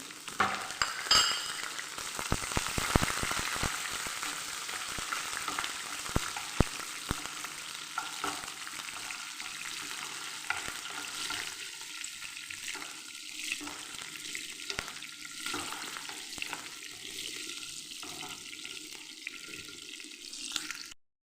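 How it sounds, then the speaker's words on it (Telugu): Seven or eight slit green chillies frying in hot oil for mango pulihora, with loud, dense crackling and spitting at first that settles into a steadier, quieter sizzle with occasional scraping. "ఒక 7-8 పచ్చిమిరపకాయలు చీల్చి ఇలా వేసుకున్నాను"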